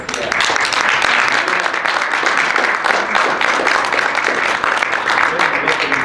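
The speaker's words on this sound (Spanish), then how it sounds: "concluimos aquí con un fuerte aplauso" A university audience gives a strong round of applause at the close of an academic talk on teachers' communicative competence, dense and loud clapping sustained for six seconds with no pause.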